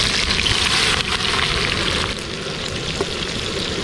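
Sliced onions frying hard on a high flame in hot oil for Thalassery biryani, a steady dense sizzle and crackle close by, with no talking.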